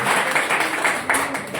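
A church congregation clapping together during a Sunday worship service, a short burst of rhythmic hand claps with a few distinct beats.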